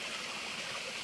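A full summer mountain stream rushes steadily, a dense, even hiss of flowing water with no voices.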